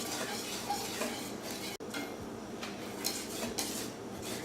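A utensil stirs baking soda and baking powder into gluten-free banana bread batter in a bowl, giving soft scraping and light clinks at a moderate level, with one sharp knock partway through and no speech.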